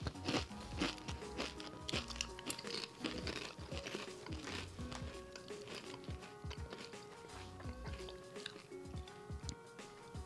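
People munch Doritos chips, with crisp crunching and chewing close up plus crinkling of the chip bag throughout, set under a busy mix of background music and occasional talk.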